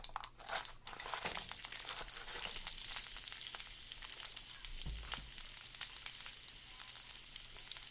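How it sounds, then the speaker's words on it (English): Sliced onion sizzles steadily in two tablespoons of hot oil with green chili as a masala base for aloo manchurian, a bright continuous frying hiss close by, with a few sharp clatters at the start. "and fry till golden brown"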